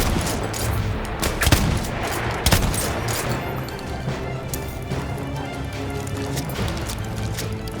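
A pump-action shotgun fires in Battlefield 1 gameplay amid battle noise, with a few sharp loud blasts standing out early over continuous distant gunfire and rumbling combat.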